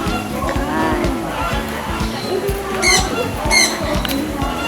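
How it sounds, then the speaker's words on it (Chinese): Grey parrots squawking at a bird park in Bali, two sharp harsh calls close by, set against a busy outdoor background of crowd chatter and scattered bird noise. "有灰鹦鹉。"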